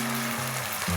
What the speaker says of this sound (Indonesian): Setelah saus kung pao terlihat mendidih seperti ini, bisa kita masukkan ayam yang sebelumnya sudah kita goreng